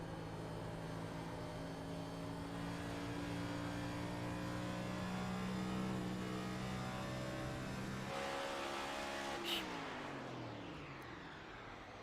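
Race car engine in iRacing at Homestead-Miami Speedway, a sustained high droning whine that holds steady, then drops in pitch as the car eases off near the end, with another car's tone briefly passing.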